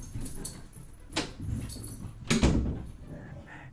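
An excited pet dog whimpers and whines in a home, short high-pitched bursts rising twice, loudest near the middle, close to the microphone with some background shuffling.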